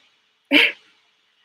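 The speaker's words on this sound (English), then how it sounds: "I'm sorry if you hear my dogs barking." A single sharp dog bark rings out close by after a moment of silence, followed by the start of another yelp at the very end.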